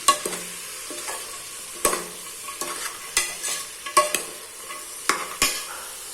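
Vegetables for vegetable biryani fry in a pan while being turned, with repeated sharp scrapes and clanks of a spoon over a soft ongoing sizzle, close and fairly loud.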